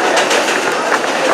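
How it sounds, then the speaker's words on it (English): A New York City subway 7 train rushes past on elevated track, a loud close roar with rhythmic clacking wheel beats throughout. "There goes another local train."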